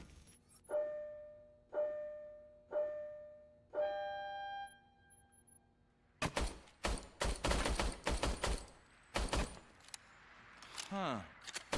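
Service pistol fire in the RoboCop video game, with the weapon miscalibrated and firing high and to the right: four evenly spaced chime tones, then a cluster of sharp, rapid gunshots in quick bursts.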